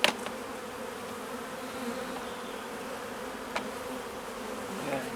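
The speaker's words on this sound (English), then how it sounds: "there's a whole load of bees wondering what the heck" Honeybees from a freshly split urban hive buzzing in a dense, continuous drone, close and steady, with a couple of faint clicks and no talking.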